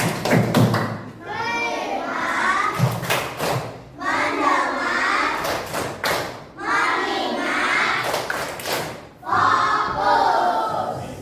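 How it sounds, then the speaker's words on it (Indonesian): A school class plays the concentration clapping game as an icebreaker, a crowd of young voices chanting loudly in unison in repeated bursts, with claps and thumps marking the rhythm. "mari kita lakukan ice breaking yaitu dengan tepuk konsentrasi"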